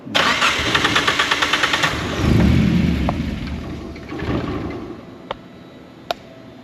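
The Deep Orange 3 car engine, started for the first time in over ten years, cranks with rhythmic pulses, catches and roars loudly, then settles toward a lower idle with a couple of sharp clicks.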